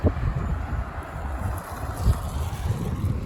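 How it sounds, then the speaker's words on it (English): Outdoor wind buffets the microphone with low, gusty rumbles and thumps that swell and fade irregularly over a few seconds, with no voices heard. "It's a little windy, like I said."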